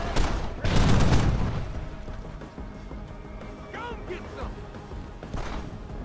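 Gunfire in the video game Deus Ex: Human Revolution, a burst of heavy loud shots at the start, then quieter in-game clatter and beeps with occasional muted shots.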